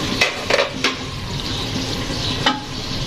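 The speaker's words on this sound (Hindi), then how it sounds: "अब इसको भूनते हैं। तो तेज चूल्हा करके बिल्कुल कर लिए हैं।" Rajma frying on a high flame, a steady close sizzle with a few sharp scraping stirs of a spoon against the pan.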